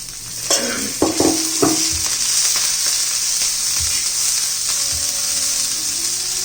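Oil sizzles steadily in a pan with roasted green chilies, a loud, continuous hiss close by, broken by a few clanks and stirring knocks early on.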